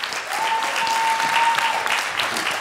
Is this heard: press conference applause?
yes